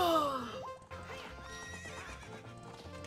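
A horse in Ocarina of Time gives a loud whinny at the start, followed by rhythmic clip-clop of hooves under the game's background music, with no talking.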